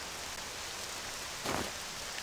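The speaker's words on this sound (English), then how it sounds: "It's the rain." Steady rain falls in the video game Octopath Traveler II, a soft and even hiss all the way through, with one brief louder splash or rumble partway through.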